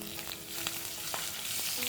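Curry leaves, mustard seeds, cumin, hing and large chillies crackle and sizzle steadily in hot oil for a Marathi methi-kohlrabi bhaji, with a few sharp pops rising above a dense, close frying hiss.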